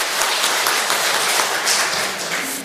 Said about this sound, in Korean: 다시 한번 성가들을 위해서 한번 큰 박수로 감사의 마음을 표현하겠습니다